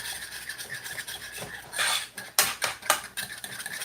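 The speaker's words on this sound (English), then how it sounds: "you got to keep stirring your gravy because you don't want it to get too thick" A spoon scrapes and rubs against a pot while stirring simmering gravy, giving irregular close scraping strokes with short pauses and sharper clanks near the end.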